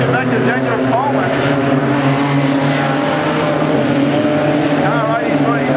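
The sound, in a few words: race cars driving around a speedway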